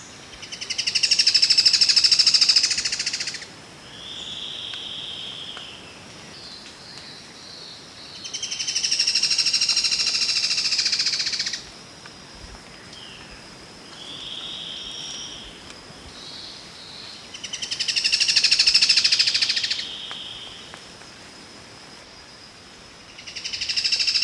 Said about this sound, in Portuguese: Ouça agora o lindo canto do limpa-folha do Nordeste